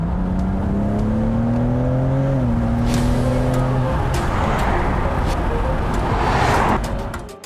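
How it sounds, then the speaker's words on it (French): A BMW M inline six-cylinder engine revs up through rising gears with a loud, climbing howl, shifting once, then fades into a rushing whoosh as the car speeds off. "Le 6 en ligne, le département M de BMW en a fait sa spécialité."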